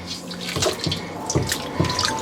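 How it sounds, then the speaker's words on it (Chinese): Tap water runs steadily into a sink, splashing and pattering as blanched cuttlefish is rinsed under cold water, close and continuous for a couple of seconds. "给它过一遍凉水。"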